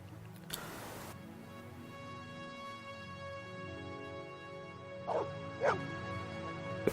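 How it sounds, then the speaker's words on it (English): A dog in the Blade Runner video game gives two short yipping barks late on, heard faintly over a steady humming ambient background. "We have to feed the dog."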